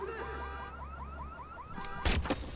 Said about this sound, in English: trip that alarm